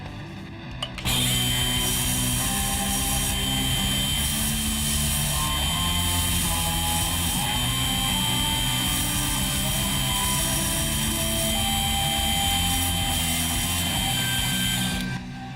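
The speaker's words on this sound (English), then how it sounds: "now I'm just going to chamfer these edges" A power tool chamfers the edges of a stainless steel bolster, giving a loud, continuous motor whine with grinding tones close by that starts abruptly and holds steady.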